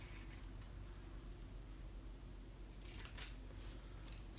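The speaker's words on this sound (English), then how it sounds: "I usually trim right at the edge with the pinking shears." Pinking shears snip along the trimmed edge of shirt fabric, faint crisp cuts over a low steady room hum, with no talking.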